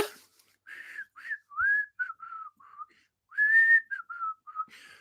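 Someone whistles a short, wavering tune in several breathy bursts with pauses between, close by and fairly quiet, pitch wobbling unsteadily.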